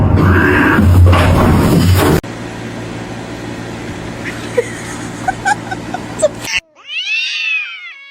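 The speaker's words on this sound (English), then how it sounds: "Meow." A cat lets out a loud, close meow near the end, preceded by muffled rustling and a few light knocks in a quiet indoor room.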